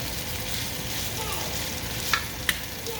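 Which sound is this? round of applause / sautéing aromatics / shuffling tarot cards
sautéing aromatics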